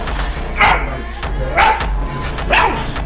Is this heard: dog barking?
yes